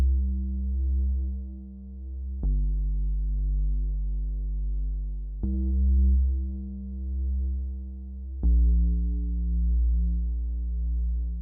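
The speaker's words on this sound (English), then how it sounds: "I just use this normal sub bass that sounds like this" A plain sub bass from an FL Studio trapsoul beat sounds alone as three long, deep sustained notes, each entering with a soft click. The notes pulse smoothly and are loud and close, with no other instruments or voices.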